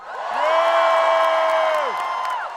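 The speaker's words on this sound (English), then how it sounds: "Cheer if you don't think that's okay." A comedy show audience cheers, a big crowd whooping and shouting together in one sustained loud roar that swells quickly, holds steady and then fades after about two seconds.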